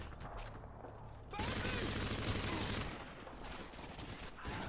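M4 rifle fire in Modern Warfare 2, a loud burst of rapid automatic shots lasting over a second amid game sounds, with faint talk nearby.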